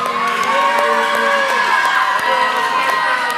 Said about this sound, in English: Middle schoolers, cheer for your middle school teammates up here.